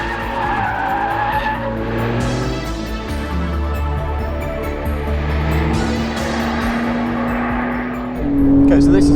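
A 2020 Porsche 911 992 Carrera 4S with sports chassis and active rear steer drives hard on track, tires squealing loudly over a steady engine drone, rising near the end, with speech underneath.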